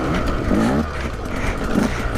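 A 2017 Husqvarna TE 150 dirt bike engine chugs steadily on a rocky trail ride, a continuous close, loud low drone with slight throttle swells throughout.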